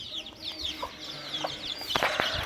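Chickens cluck on a small farm, with a young rooster among the flock, giving short scattered calls that build into a denser burst of clucks toward the end over steady outdoor background noise.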